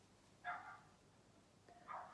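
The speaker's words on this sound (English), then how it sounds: "The dog barking has distracted me completely." A dog barks twice, faint and a little distant, with the two short barks spaced over a second apart against a quiet room and no voices.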